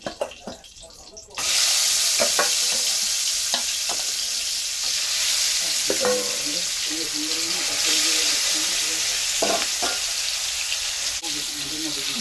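Pieces of rohu fish fry lightly in oil in a pan, a loud steady sizzle that starts abruptly as they go in, with occasional clinks and scrapes of the spatula and faint voices in the background.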